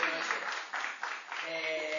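Audience applause at a panel of candidates for a professional council, a short burst of clapping that swells and dips over about two seconds, with some voice sounds mixed in.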